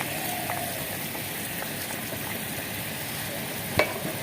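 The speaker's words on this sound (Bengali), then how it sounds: "ঝোলটা তো মাছটা দিয়ে ফুটছে বন্ধুরা।" Tengra fish curry gravy simmering in a pot, a steady dense bubbling hiss held at an even level, with one brief sharp clink near the end and no speech.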